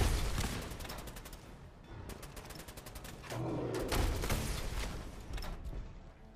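Rapid bursts of weapon fire from a missile launcher in a wasteland shooter game, a dense run of sharp repeated shots with heavier booming thuds in the middle, loud and continuous with no talking.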